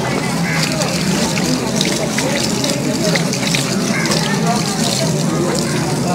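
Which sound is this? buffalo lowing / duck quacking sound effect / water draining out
water draining out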